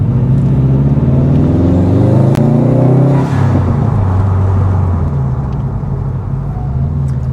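A 330 bhp Subaru WRX STI drives over bumps, heard as a loud, close engine drone from inside the cabin. The engine pitch climbs, then eases off, under a constant road rumble.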